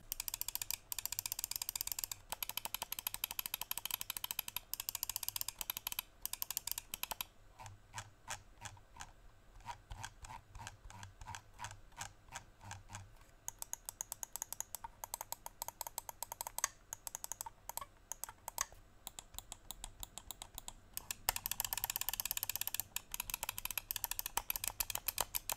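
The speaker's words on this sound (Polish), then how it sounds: "pozostaje również charakterystycznym Razerowym chrobotkiem w zakresie feedbacku dźwiękowego" Razer Viper V2 Pro wireless gaming mouse: bursts of rapid ratcheting scroll-wheel clicks and sharp button clicks, close and crisp, coming in dense runs with short pauses and no talking.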